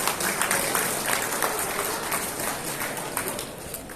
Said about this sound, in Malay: Sila berikan tepukan yang gemuruh kepada beliau.